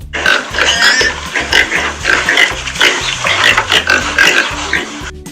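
A pink pig grunts and oinks repeatedly in loud, close, rhythmic bursts, one snort after another with no pause, the animal alone without any talking.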